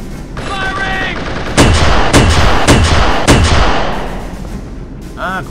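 Gunfire and explosions from the video game Halo SPV3: a few heavy, loud, sharp blasts ring out over a dense rumbling battle bed, with a brief voice before and after.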